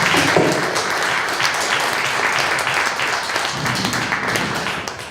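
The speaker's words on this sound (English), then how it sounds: "please give our co-captains a round of applause" Audience applause at a debate final for the co-captains, sustained dense clapping from a crowd, loud and steady throughout and slowly thinning toward the end.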